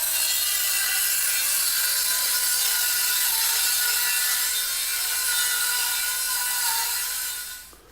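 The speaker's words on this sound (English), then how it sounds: "I'm just going to run the saw over it." A circular saw rips through a plywood sheet guided by a straight cut jig, a steady loud whining buzz that holds for about seven seconds, then winds down as the blade finishes the pass.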